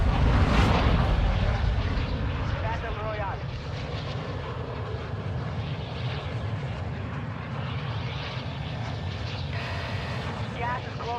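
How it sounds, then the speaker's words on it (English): A fixed-wing airplane drones steadily through a video game, its engine a constant loud rumble and roar filling the whole stretch, with occasional game sounds and voices talking over it. "Every time I wake up, I'm on this airplane."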